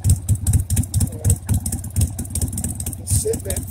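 A motorcycle engine idles while warming up after a regulator rectifier check, a close, loud, lumpy low-pitched putter with an even rhythmic pulse.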